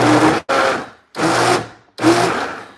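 A kitchen blender runs in three loud, close bursts of whirring motor and chopping noise, each lasting under a second, separated by short pauses of near silence.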